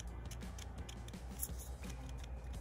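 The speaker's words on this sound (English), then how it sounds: "the grip right here is also click grip" The adjustable click grip on a CNC P6 tattoo machine is turned, producing a quick series of small, sharp mechanical clicks heard close up and fairly faint, with no voices.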